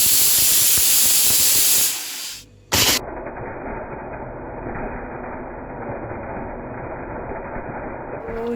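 A pressure cooker whistle on a home kitchen stove, a loud sustained steam hiss that cuts off briefly, then resumes as a steady jet of steam continuing to the end.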